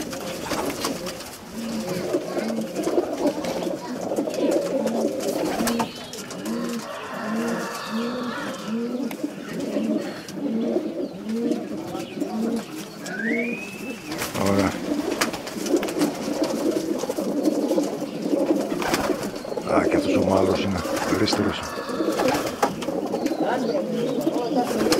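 Pigeons coo continuously in a loft in Petrousa, Drama, a dense chorus of soft, rolling throaty calls, close and steady, with occasional wing flutters and a brief higher chirp.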